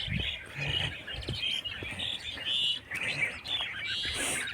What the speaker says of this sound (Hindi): सुन पा रहे हो चिड़ियों की आवाज़ें?